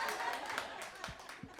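Audience clapping and cheering at a stand-up comedy special, a steady dense wash of applause with a few scattered whoops, heard close and continuous throughout.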